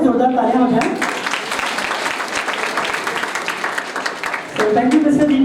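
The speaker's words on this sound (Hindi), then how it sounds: "दीपक बेस्ट, तो इनके लिए जोरदार तालियां हो जाएं।" Applause at a software expo event, a dense burst of many hands clapping through the middle, with a voice speaking just before and just after.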